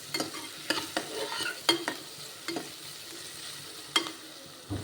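Onions fry in a pan for mutton gravy, a soft sizzle broken by a handful of irregular spatula strokes and scrapes, fairly quiet and close, with no talk.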